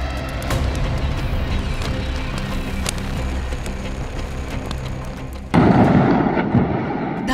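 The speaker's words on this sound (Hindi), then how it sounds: "धमाके की आवाज इतनी भयानक थी" A distant factory explosion in Harda rumbles amid steady crackling fire noise, followed by a louder burst of blast and debris roar near the end.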